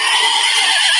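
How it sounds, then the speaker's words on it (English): A horse neighs loudly and close, a single shrill, quavering whinny filling the short moment. "Horse."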